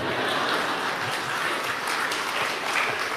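A church congregation claps during a Pentecost sermon, a dense, even wash of applause that holds steady and fairly loud for a few seconds.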